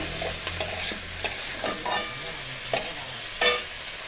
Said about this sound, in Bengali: দিয়ে দেবো বেশ কিছুটা কাঁচা লঙ্কা, দিয়ে এবার হালকা একটু নাড়াচাড়া করে নেব